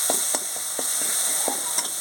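Tomato spice paste frying in a pan, a steady sizzle cut by regular spatula scrapes and taps about every quarter second, close and clear with no voices.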